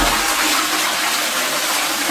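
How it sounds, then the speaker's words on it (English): A Caroma toilet doing a full flush after a spring repair, a loud steady rush of water close by with no talking. "let's go for a full flush. We push it down, and we will wait."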